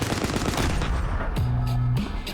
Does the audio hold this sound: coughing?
no